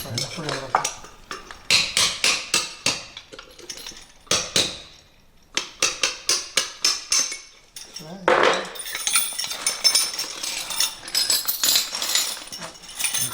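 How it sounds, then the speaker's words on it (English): Metal chisel strikes on riveted steel shackles ring out in rapid bursts of sharp, clanking hits, pausing briefly between runs, then giving way to scraping and rattling metal handling. "Now we just need to chisel them open."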